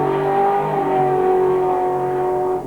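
A drag racing car at a 1995 drag racing school holds its engine at raised RPM, a loud, close, steady tonal drone that barely changes before easing off at the very end.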